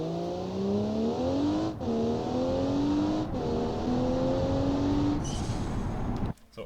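A game-simulated car engine in Automation holding revs for a launch-control start, then pulling hard through rising gears with brief shift breaks, a loud continuous whine that cuts off abruptly near the end.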